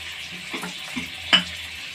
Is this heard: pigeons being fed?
no